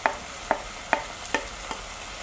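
Carrot and cabbage stir-fried for chicken chop suey, five evenly spaced sharp scrapes of a spatula against the pan over a soft background sizzle, close and without voices.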